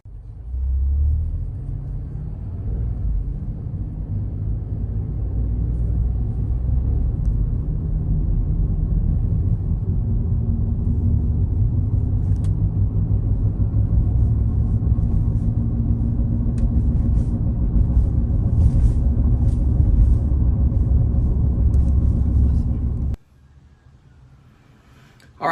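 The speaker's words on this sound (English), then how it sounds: "you can kind of hear a little roaring noise going on in the background" Inside a moving 2018 Ford Edge with a bad wheel hub, a low, continuous road roar and rumble builds and holds for over twenty seconds before falling quiet.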